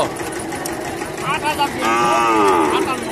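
A young cow about six months old, a local and Sahiwal cross, moos in long drawn-out calls at a busy rural cattle market, heard over steady crowd noise and nearby talk.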